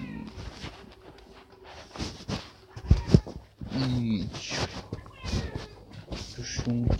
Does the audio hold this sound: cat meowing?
yes